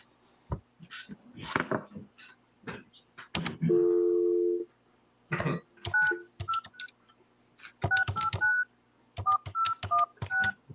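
Telephone keypad tones during a courtroom phone call: a series of short touch-tone beeps in uneven bursts, with a longer steady tone near the start and a voice speaking between them.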